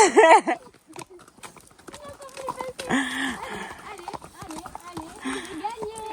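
A pony walks with a long, extended stride outdoors, its hoof clops faint and irregular beneath excited talk and encouragement from nearby people.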